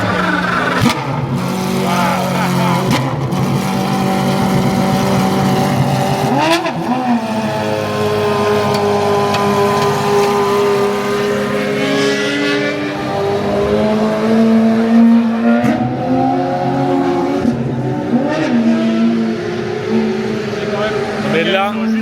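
A Praga race car at the Le Castellet circuit fires up and revs, its engine note rising and falling in long sweeps with loud, sustained roar throughout, while people talk over it.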